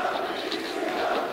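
A wrestling video game crowd roars in a dense, continuous wash of cheering during an ECW ladder match, filling the moment without a break.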